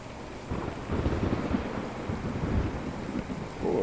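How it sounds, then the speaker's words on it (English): Thunder in the Train Sim World 4 video game, a low rolling rumble swelling out of a windy, rainy storm ambience and lingering for a few seconds, with no voices present. "Oh, I got thunder now."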